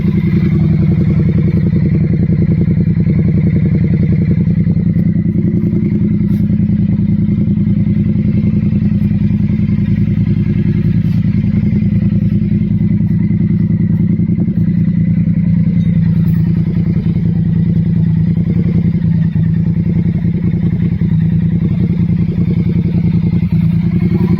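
Triumph Street Twin motorcycle with the original catalytic converter kept and only a GP slip-on end can fitted, running close and loud with a steady low throb and throttle blips rising over the idle.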